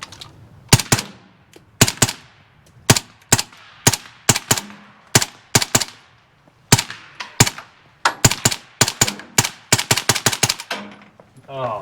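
A suppressed Turkish MKE AP5SD braced pistol, an MP5-SD clone, fired at a range: a long string of sharp, close shots in quick bursts and single rounds with short pauses, each crack cleanly separated and loud.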